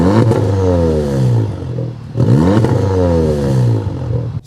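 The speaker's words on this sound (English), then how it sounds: "give it a little rev." A Volkswagen Golf R estate engine in race mode revs hard twice, each rev rising and falling in pitch, loud and close with a brief pause between the bursts.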